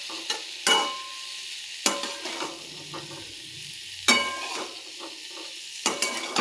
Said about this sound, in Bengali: এবার একটু মশলার সাথে ভালো করে কষিয়ে নিয়ে, তো ফুলকপির ভাজার সুন্দর একটা গন্ধ বেরিয়েছে